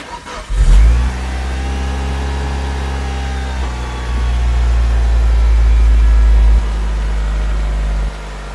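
A Mitsubishi Evo 8 engine cranks briefly and catches, then settles into a loud, steady idle with a rise in revs partway through, close to the microphone.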